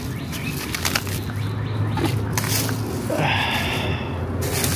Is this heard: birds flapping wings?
yes